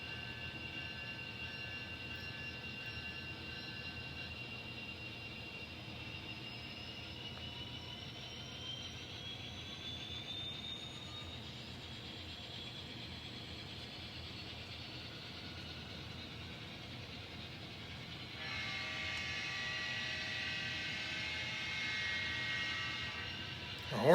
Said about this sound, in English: The horn's stuck.